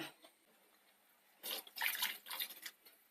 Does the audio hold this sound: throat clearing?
no